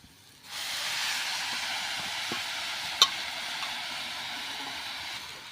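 Washed tandulja (amaranth) greens drop into a hot pan with chili and garlic, setting off a loud steady hiss of steam and sizzling that starts abruptly and holds throughout, with one brief sharp pop partway through.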